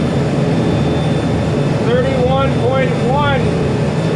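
Twin engines of a 2000 Pursuit 3400 Sport Fish boat run at full throttle, a loud, steady, close roar with rushing wind, while a voice briefly speaks over it.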